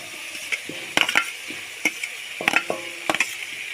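Fried potatoes are stirred and sautéed in spice paste for an eggplant-potato dish, with intermittent spatula scrapes and clinks against the pan over a soft, low sizzle.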